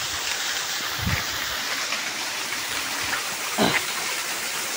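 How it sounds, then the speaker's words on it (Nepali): A small waterfall in a stream rushes steadily nearby, a continuous broadband wash with a couple of brief louder splashes. "यो झर्नै देखाउन है।"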